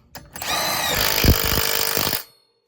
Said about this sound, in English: Take your impact gun. You want this tight.